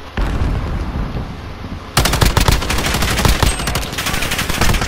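Gunfire in a Call of Duty: Modern Warfare gunfight, loud rapid automatic bursts and overlapping shots, thinner at first and then a dense, heavier volley for the last three seconds, with no speech.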